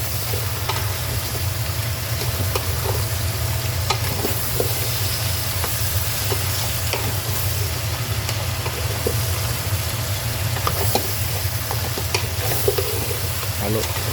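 Crab and shrimp are stirred as they fry in a pan: a constant, close frying hiss with repeated scraping and clacking of the spoon against the pan over a low steady rumble.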